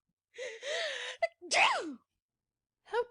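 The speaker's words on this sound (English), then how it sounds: "Duchess gasps and gives a tremendous sneeze." A tremendous theatrical sneeze from the Duchess in a stage play of Alice in Wonderland, preceded by a gasp: a drawn-out vocal intake, then a loud, sharp burst, with a short vocal sound after a pause.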